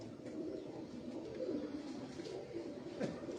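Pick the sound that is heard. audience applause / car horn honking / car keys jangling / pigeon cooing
pigeon cooing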